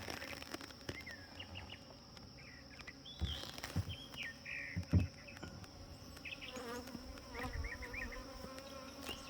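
Bees buzzing around an opened hive as a keeper tends the colony, a steady close drone with individual insects flying past the ear, soft handling knocks and a few distant bird chirps behind.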